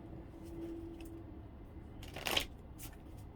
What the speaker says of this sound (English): All right, we're going to shuffle.